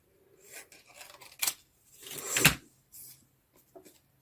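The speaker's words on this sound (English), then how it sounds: "I'm just going to find a pair of scissors to just chop the end off here" Scissors chop the end off a strip of card stock at a home crafting table, a few close crisp snips and rustles of the card being handled, brief and fairly quiet.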